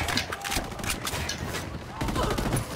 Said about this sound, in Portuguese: começaram os tiros